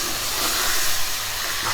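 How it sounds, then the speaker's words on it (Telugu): Marinated mutton pieces sizzle on high flame, a loud, continuous, bright hiss filling the whole clip without a break. "మ్యారినేటెడ్ మటన్ పీసెస్ యాడ్ చేసిన తర్వాత ఫ్లేమ్ హైలో పెట్టుకొని ఒక 5 to 6 minutes ఫ్రై చేసుకోవాలి ఈ మటన్ ముక్కలు"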